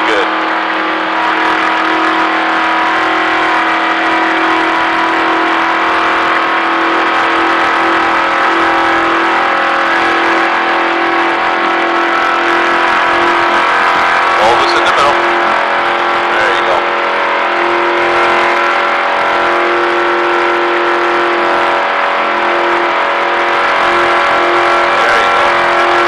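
Race car engine held at steady high revs through a turn on the Daytona Speedway oval during a driving experience, a loud continuous droning whine filling the whole stretch, with an instructor's voice talking over it.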